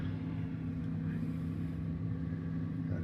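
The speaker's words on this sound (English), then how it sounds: "got blower motor." An HVAC blower motor runs steadily alongside a Honeywell zone controller system, a continuous low humming drone with a faint whir above it, unchanging throughout.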